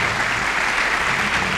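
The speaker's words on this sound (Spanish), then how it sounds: "Les pido un aplauso para ellos." A conference audience at an economics congress breaks into dense, sustained applause, filling the short moment with steady clapping.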